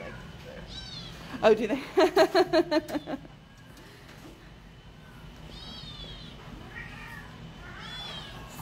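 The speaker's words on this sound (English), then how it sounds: "Kittens, kittens everywhere." Several high, thin kitten meows ring out in a quick series near the mic, followed by fainter mews, with brief speech in between.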